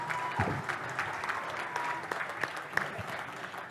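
Audience applause at a sports awards evening honoring young athletes, a steady wash of clapping at moderate distance with a few sharper individual claps and faint voices underneath.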